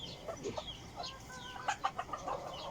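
Backyard chicks cheeping in short, high, scattered peeps close by, light and irregular over a faint background.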